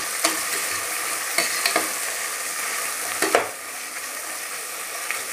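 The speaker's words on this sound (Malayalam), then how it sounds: "ഒരു ചെറിയ ക്യാരറ്റ് കൂടെ അരിഞ്ഞു വെച്ചിട്ടുണ്ട്, അതുകൂടെ ഇട്ട് കൊടുക്കുന്നുണ്ട്. നല്ലോണം നമുക്ക് വഴറ്റിയെടുക്കാം." Chopped onion and carrot sauté in a pan for pressure-cooker biryani, with a constant close sizzle broken by several sharp scraping stirs of a spoon.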